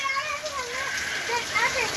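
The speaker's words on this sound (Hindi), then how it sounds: "भाई बहुत ज़बरदस्त बारिश हो गई बहुत ज़बरदस्त" Steady heavy rain patters and splashes while children's voices chatter and shout over it during a rain cricket match.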